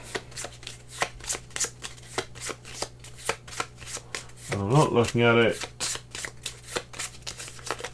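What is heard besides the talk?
shuffling a deck of playing cards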